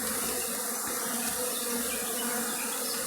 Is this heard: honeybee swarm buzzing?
yes